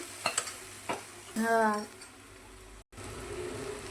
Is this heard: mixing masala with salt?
yes